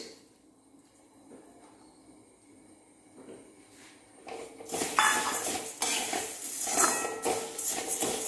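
Spoon scraping and clinking against a pan while sambar powder spices roast in oil, quiet and sparse at first, then louder bursts of metallic stirring and scraping in the second half.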